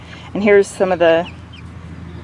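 Several seven-week-old mixed-breed chicks in a large chicken coop give two short clucking calls close by, over a quiet background, just after someone speaks briefly.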